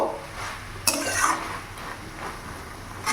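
Cabbage curry fries in a pan over a full gas flame while being stirred, a soft continuous sizzle broken by spatula scrapes and a sharp clank against the pan, close up with no talking.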